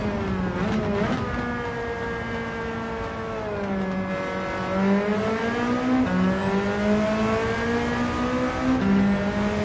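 Nissan Silvia S13 with a K engine swap in Gran Turismo 7, its engine droning and revving loudly and continuously, pitch rising and falling as the throttle is blipped, with faint tire noise.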